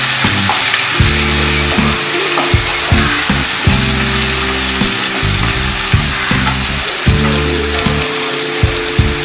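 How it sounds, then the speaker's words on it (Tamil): Sliced onions sizzle loudly and continuously in hot oil in a pan for a South Indian shark fish scramble, with occasional stirring scrapes and background music underneath. "ஸ்லைஸ் பண்ணி வச்சிருக்க வெங்காயத்தை ஆட் பண்ணிக்கலாம்"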